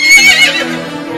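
Cartoon horse neighing, a loud, close whinny that rises shrilly and then trails off, alone and brief.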